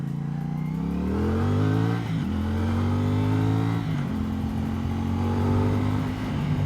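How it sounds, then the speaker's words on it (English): A CFMoto SRS 450 motorcycle engine sounds loud and close throughout, revving in steady sustained pulls with two brief dips as the rider shifts, the tone climbing again after each. "this is my first time riding cfmoto SRS"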